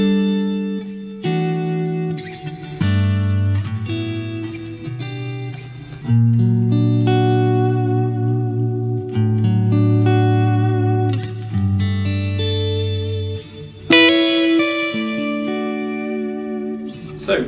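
Electric guitar played through a Helix modelling a Marshall Park 75 amp, set for a clean tone with drive low, bass at 3 and mids at 5, ringing out sustained chords and notes with effects and reverb.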